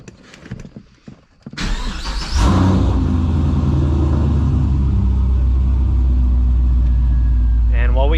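A 2006 Pontiac GTO engine cranks and fires up after some faint shuffling, then settles into a loud, steady, close rumbling idle that holds to the end with slight rises in revs.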